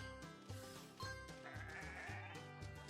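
Sheep in a Paw Patrol video game bleat several times in a quick, rhythmic series, with a musical, slightly synthetic game-like quality, fairly close and clear.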